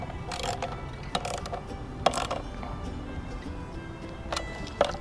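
Ratchet cranking down a mount on a Jeep Gladiator during an auxiliary switch panel install, a run of close, repeated clicking bursts in uneven strokes, with no talk.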